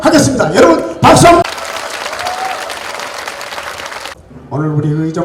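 A burst of audience applause at a political party's legislative report meeting, dense clapping for a few seconds right after a loud voice, then fading as talk resumes.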